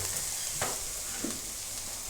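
Steady sizzling of onions frying in a pan, a continuous crackling hiss with a couple of brief stirring scrapes.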